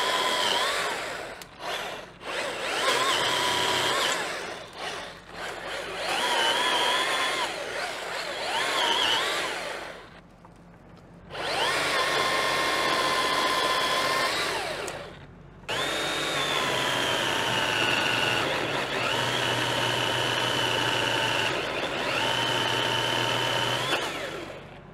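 A Milwaukee FTPS30 battery pole saw cuts willow tops outdoors: long, loud, steady motor whines in three sustained runs, with the pitch shifting under load and brief pauses between cuts.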